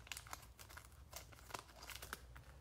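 Plastic cello pack wrapper from a Panini Prizm football card box being cut open, with quiet close crinkling and snipping in quick irregular bursts.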